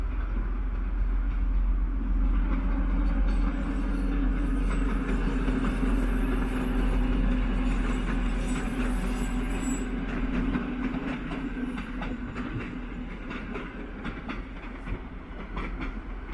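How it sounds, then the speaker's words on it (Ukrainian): A diesel commuter train rolls along mountain tracks in the Carpathians between Kolomyia and Dilove, a continuous low engine drone under steady rhythmic wheel clatter. "Поїзд курсує духоподібними коліями і тунелями по мостах і віадуках"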